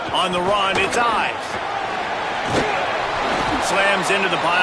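An on-field collision in the NCAA 27 football game lands as a few dull slams under a steady crowd roar, with a commentator's voice running over the top.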